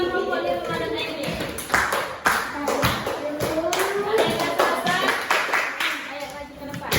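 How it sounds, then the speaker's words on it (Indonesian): A classroom of schoolchildren claps together, a dense run of close, sharp hand claps with uneven rhythm, mixed with children's voices and chatter throughout. "Tepuk tangan dulu sama perempuan yang ada ini"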